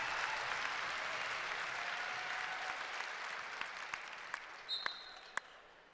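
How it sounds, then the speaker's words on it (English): Steady applause from a large crowd at a Princeton vs. Rutgers college wrestling match fills the space, gradually thinning out, with a few sharp claps and a whistle near the end. "Nice round of applause from the crowd here for Sebastian Rivera."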